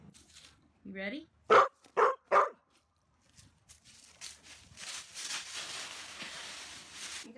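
Dog barking three or four times in quick succession, loud and close, with a person's voice talking around the barks and noisy movement afterward.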